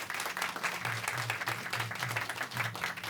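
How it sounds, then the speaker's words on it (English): An audience applauds the cast and team at the close of a Janmashtami 2015 play, a dense steady wash of clapping sustained throughout with a low hum beneath. "Could we have another massive round of applause for the cast and the team behind the project?"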